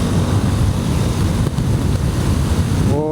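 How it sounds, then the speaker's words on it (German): Strong headwind roars over an off-road motorcycle on the Trans Euro Trail in the Albanian highlands of Orosh, a loud, continuous low buffeting rush that fills the whole stretch with no talk. "Und ja, heute ist ziemlich windig."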